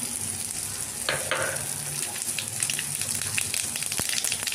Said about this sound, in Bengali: ঘি দিয়ে একটু সর্ষে ফোড়ন দিলাম